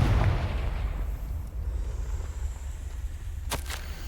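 Confringo fire spell in Hogwarts Legacy bursts with a heavy booming blast at the start that fades into a sustained rumbling roar, with a sharp crackling snap near the end.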